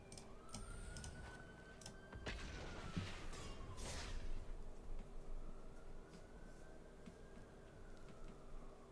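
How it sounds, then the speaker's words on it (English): Emergency sirens going off outside, a distant wailing tone rising and falling twice, faint behind indoor room noise and clicks, with no talk. "Also, there's sirens going off like crazy."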